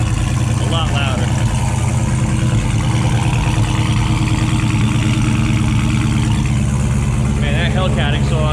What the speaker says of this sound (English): Man, that Hellcat exhaust is no joke.